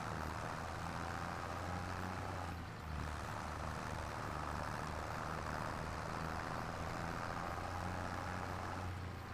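A tractor in Farming Simulator 25, mowing and baling fields, strains under load with a loud, steady engine drone that holds throughout, with no talking.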